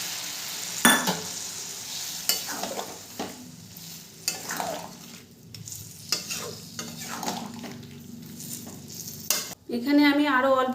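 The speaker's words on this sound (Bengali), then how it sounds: "এরপরে দিয়ে দেবো গরম জল।" Chili chicken in a hot pan being stirred with a metal spoon, scraping and clinking over a steady sizzle, then a loud burst of hissing as hot water is poured in near the end.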